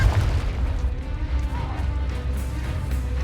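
A Confringo blasting spell detonating in the video game Hogwarts Legacy, a deep booming explosion with crashing debris that rumbles loudly throughout the short burst.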